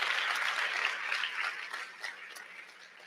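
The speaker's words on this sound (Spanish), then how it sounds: "dale un fuerte aplauso al Señor" Church congregation applauding the Lord during a Spanish-language sermon, a dense steady wash of many hands clapping that thins and fades toward the end.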